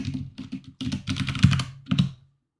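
Typing on a computer keyboard at a desk, a close, rapid run of clicking keystrokes in several quick bursts that stop abruptly, with no talking.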